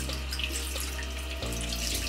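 Warm water runs from a bathroom tap into a sink in a steady, close stream, with a low hum underneath and no voices.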